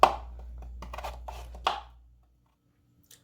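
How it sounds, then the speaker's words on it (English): Vegetables for a beef stew being chopped on a board, a quick run of close knife strikes for about two seconds before the cutting stops and the room goes quiet. "let's go ahead and get all of these chopped up so we can move on to our next steps"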